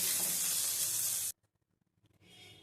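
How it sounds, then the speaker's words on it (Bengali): Tomato and onion frying in a pan hiss loudly and close for just over a second, then cut off abruptly to near silence with a few small clicks, before a softer sizzle returns briefly. "পেঁয়াজের সাথে টমেটোটা ভাজা হয়ে গেছে।"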